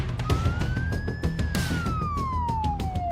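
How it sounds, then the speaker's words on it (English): An ambulance siren wails loudly and continuously as the vehicle runs on lights and sirens to a priority call, its tone rising and then sliding lower over steady traffic noise, with no talking. "now on their way, lights and sirens"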